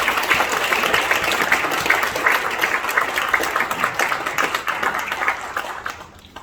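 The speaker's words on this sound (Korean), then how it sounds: "큰 박수 보내주시기" An audience claps steadily after a speaker is introduced at a formal event, a dense round of applause that runs several seconds before thinning out and fading near the end.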